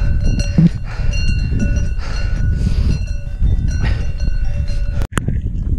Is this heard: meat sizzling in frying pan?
no